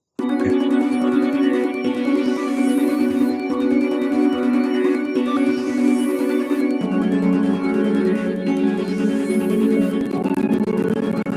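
A dark trap beat with a sustained lead synth melody over layered pads and a steady pulse that plays loud and continuous and shifts pitch partway through. A voice says one brief word over it.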